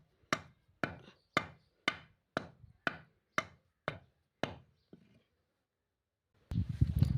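Cumin seeds are pounded for regi vadiyalu in about ten sharp, evenly spaced thuds, each with a short decay, then a brief pause before a louder burst of rough noise.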